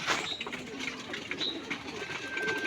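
Pigeons coo softly in a loft or enclosure, with faint chirps and light wing flutters mixed into a low background hum, with no talking.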